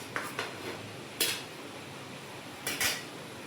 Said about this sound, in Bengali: এবার এটাকে আমি এক এক করে প্লেটে নামিয়ে নেব।